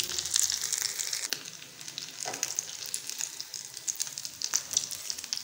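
Potato and egg roll kababs frying in oil, turned side to side until golden, a steady close crackling sizzle with a few soft scraping touches and no talk.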